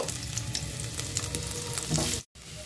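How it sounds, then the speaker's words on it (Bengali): Potatoes fry in oil in a wok, giving a loud, continuous close-up sizzle with bubbling crackle and occasional stirring scrapes, cut by a brief silent gap near the end; no one speaks. "এবারে আলুগুলোকেও আমি ভালো করে ভেজে নেব"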